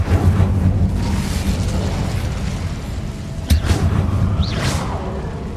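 An Incendio fire spell bursting in Hogwarts Legacy, heard as a whooshing, booming flare with a brief burst of energy over a steady rumbling game background.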